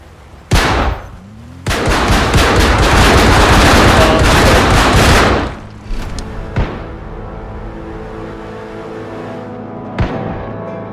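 Armed bandits in Project Zomboid unleash a loud burst of gunfire: a single shot, then a sustained automatic barrage lasting about four seconds, followed by scattered isolated shots with echoing tails.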